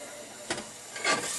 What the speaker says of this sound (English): put my margarine in here and let that start melting down